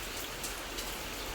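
Steady rain pours down at a plant nursery in Mangalvedha, a continuous dense patter of drops hitting surfaces, with a few slightly louder splashes, and no voices.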